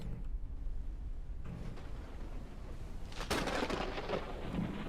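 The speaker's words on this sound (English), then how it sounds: "that thunder is a tad on the, Jesus, scary side" In the Forever Skies video game, thunder rumbles low and steady, then a sudden loud crack hits partway through and rolls into a long, bright, crashing peal of close thunder.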